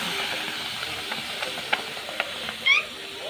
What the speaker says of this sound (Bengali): এরপর কড়াইতে আমি লাউটা সেদ্ধ হতে দিচ্ছি নুন আর হলুদ দিয়ে সেদ্ধ হতে দিচ্ছি